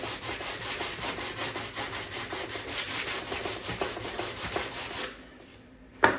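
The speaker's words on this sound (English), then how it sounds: "You want to use a block rather than your DA sander because your DA sander spins." A sanding block is rubbed by hand over an arcade control panel, a steady rhythmic scraping back and forth for about five seconds, close and continuous, then stopping with a final knock.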